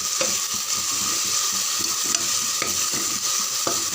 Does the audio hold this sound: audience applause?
no